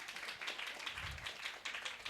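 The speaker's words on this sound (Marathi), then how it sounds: "टाळ्या तरी वाजवा येशूसाठी" A church congregation claps for Jesus, with fast, rhythmic hand claps at moderate distance, fairly quiet and steady throughout.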